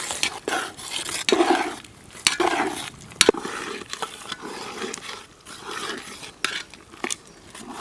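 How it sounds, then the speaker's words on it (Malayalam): A spoon stirs the plum cake fruit mix of dates and chopped cashew nuts in a pan with steady scraping and clinking strokes. The soft cooking hiss underneath runs uninterrupted for several seconds. "നന്നായിട്ട് ഇളക്കി കൊടുക്കണം, ഇത് അടുക്കി പിടിക്കാതെ"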